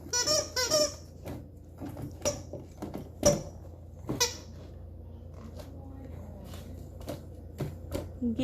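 A squeaker toy stuck under a fridge gives a quick pair of squeaks, then a scattered series of short clicks and scrapes with sharp squeaky chirps, fairly close with quiet gaps between.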